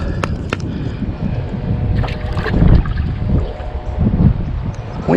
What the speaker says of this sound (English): Wind blowing me like crazy.